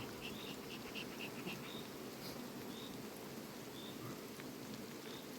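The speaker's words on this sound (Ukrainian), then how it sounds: "дощ накрапає." Light rain falling near beehives, a faint steady patter with bees buzzing around it and a few high insect chirps repeating throughout, no voices.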